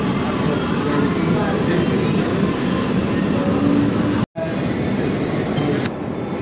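An AC local train on the Ranaghat–Sealdah line, just pulled out of Khardah station, rumbles steadily along the rails, loud and continuous from inside the carriage, with a brief cut near the end.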